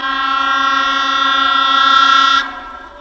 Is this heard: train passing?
yes